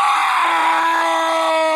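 A loud, sustained scream held for a couple of seconds, strained and piercing, with no other sounds around it.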